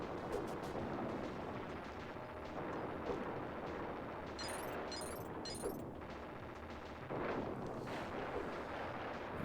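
Cannons firing in the medieval level of the SNES game Timeslip, as repeated booming blasts over busy game music, interrupted by a few short bright chirping effects.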